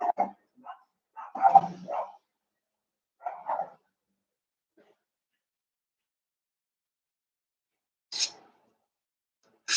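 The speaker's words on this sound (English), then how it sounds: "And then that's my doggy," A pet dog barks indoors in short bursts, several sharp woofs and yips in the first few seconds, then silence, then two higher, sharper barks near the end, close and fairly loud.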